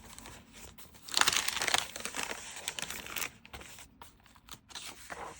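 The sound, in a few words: handling handmade paper pages of a junk journal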